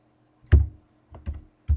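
Keys on a computer keyboard are tapped while drafting in AutoCAD, a few crisp, close clicks spaced irregularly over under two seconds, with nothing else heard.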